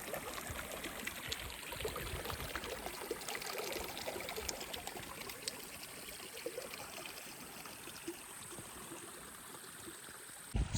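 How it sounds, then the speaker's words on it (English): A small creek by a dispersed campsite in the central Idaho backcountry flows steadily, with close, continuous babbling and trickling water and no voices over it. "Look at this little creek I found by my camp too."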